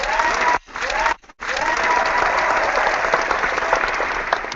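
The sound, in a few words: audience applause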